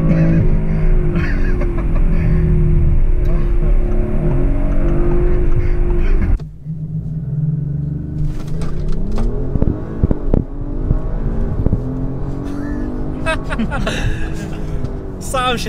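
An Audi RS5 accelerates hard along an empty road, its engine roaring loudly and steadily before a brief dip and renewed surge, with people talking over it.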